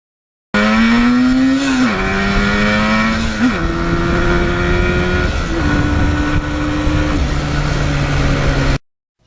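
A 1977 Yamaha RD400 two-stroke motorcycle revs loudly and climbs through several gear changes, its buzzing engine note rising and dropping at each shift before cutting off abruptly.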